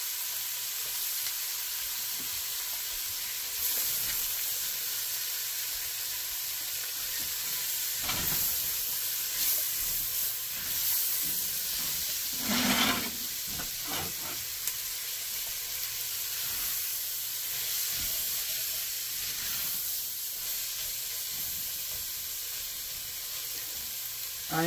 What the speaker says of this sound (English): I am going to saute this here for about 6 to 8 minutes, or until the onion starts to go a little translucent